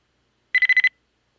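Five quick electronic beeps in an even rhythm, bright and close, from a video game spider alert waking up, sounding alone in silence.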